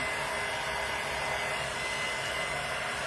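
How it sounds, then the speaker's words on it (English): A handheld hair dryer runs steadily close by, a continuous loud whooshing blow with a faint motor whine, used to dry Mod Podge on a painted craft sign. "I'm going to go ahead and use this dryer"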